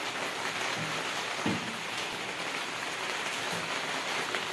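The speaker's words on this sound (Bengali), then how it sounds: "খুব বৃষ্টি হচ্ছে" Heavy rain falls in a steady, dense wash of noise that holds at one loud level throughout, with no voices.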